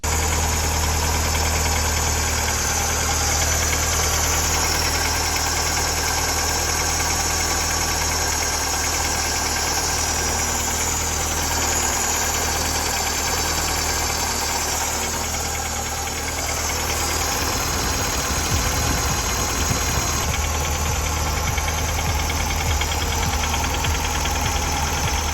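Idling four-cylinder engine of a VW Golf Mk2, a steady close-up rumble with a fast even ticking knock and a constant high whine, running unbroken for twenty-five seconds with a brief slight dip midway.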